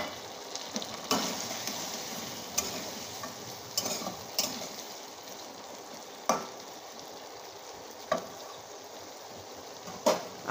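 Fish curry spice paste sizzling in a pan as water is added, a soft steady frying hiss broken by several sharp spoon-against-pan clinks as it is stirred, no talking.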